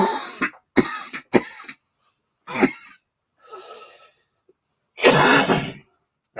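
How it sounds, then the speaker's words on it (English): Several sharp coughs and throat clearings in quick bursts, close to the microphone, separated by short silences, with one longer rough cough near the end. "I'll try to hit mute before coughing"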